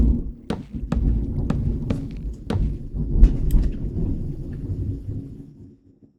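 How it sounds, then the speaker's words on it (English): Thunder in the Minecraft video game rumbles outside in a long, loud roll with several sharp cracks and booms over about six seconds, then fades out. "holy thunder outside, bro."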